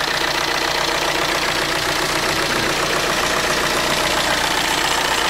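Volkswagen Amarok engine running steadily after a second start attempt, a constant mid-pitched idle with a faint knocking texture, close by and unbroken, with no voices.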